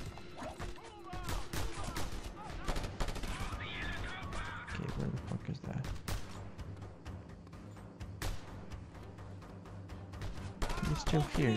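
Repeated gunfire cracks and bursts in Just Cause 2, with scattered shots, rattling volleys and heavier thuds over a low engine-like drone, while a voice talks intermittently over the action.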